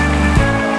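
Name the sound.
pouring water into a pan while cooking egg rezala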